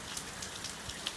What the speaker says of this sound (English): Little bit of rain coming down today